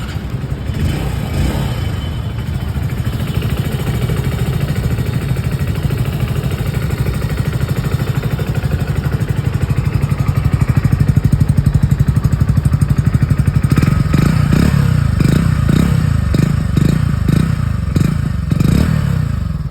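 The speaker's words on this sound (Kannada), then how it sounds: "ನೆಕ್ಸ್ಟ್ ಒಂದು ಬೈಕ್ನ ಎಕ್ಸಾಸ್ಟ್ ನೋಟ್ನ ನೋಡ್ಕೊಂಡು ಬರೋಣ ಬನ್ನಿ" A 2025 Hero HF Deluxe 100cc motorcycle engine idles steadily, then the exhaust note rises into a series of sharp revs near the end, loud and close.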